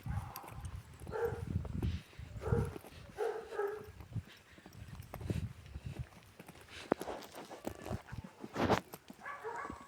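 A large dog barks a few times amid outdoor noise, with hoof-like clopping and footsteps, moderately close.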